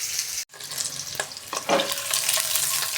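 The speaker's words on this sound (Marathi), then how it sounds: "पॅनमध्ये तेल गरम झाल्यानंतर मी अंडी घालून घेतलेली आहे।" Eggs fry in hot oil in a pan for an egg curry, giving a close, steady crackling sizzle with a few stirring scrapes and one brief dropout near the start.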